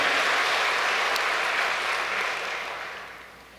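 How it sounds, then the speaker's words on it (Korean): A hall audience applauding the secretary general, loud, dense clapping from many people that holds steady and then fades toward the end. "우리 윤영호 사무총장님에게도 큰 격려의 박수를 한번 보내주시면 고맙겠습니다"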